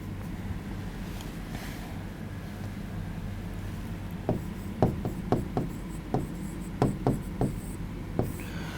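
Chalk or marker strokes on a board during a Class 10 science lesson, a series of short, distinct taps and scrapes in quick rhythm against steady room hiss, starting faint and growing clearer halfway through.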